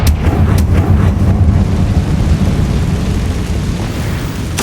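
A Confringo blasting spell goes off in Hogwarts Legacy, a loud, close, rumbling explosive burst that rolls on as a heavy low roar before slowly fading.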